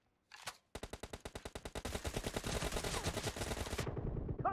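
Rapid automatic gunfire from an M762 rifle in a team deathmatch video game, a short burst followed by a long sustained stream of evenly spaced shots that grows denser, then stops abruptly.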